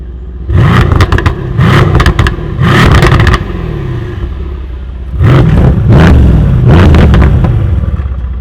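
Mercedes C63 AMG exhaust with its valves closed, a series of loud close revs in two clusters of quick blips, each settling back to a steady low burbling idle.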